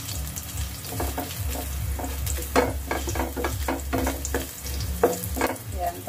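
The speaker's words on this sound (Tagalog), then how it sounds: "luto-luto lang natin ang ating bawang guys. Hanggang sa maging brown na siya para masarap." Minced garlic sizzles and crackles steadily in a hot pan of oil while being browned for simple Filipino garlic fried rice, with utensil scrapes and stirring clatter throughout, close and continuous.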